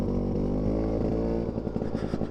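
A Vespa Smallframe scooter used as a rat bike runs close by, its small two-stroke engine putting out a steady buzzing drone that roughens and pulses as the throttle is worked, heard alone with no voices.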